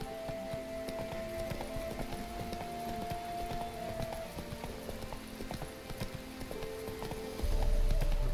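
Horse hooves clip-clopping steadily in The Witcher 3, a rapid even trot close up over soft game ambience with a faint tonal hum, ending in a louder rumble.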